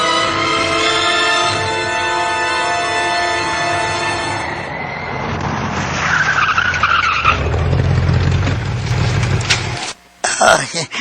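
A vehicle skids to a stop near a house, with a long harsh tire screech and rumbling engine noise that grows louder, then a sudden break and a short burst of clatter at the end.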